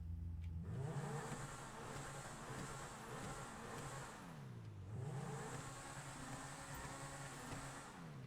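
A Grotti Cheetah sports car engine in GTA Online revs up through rising gears twice, steady and continuous, with a whining mechanical tone and no talking.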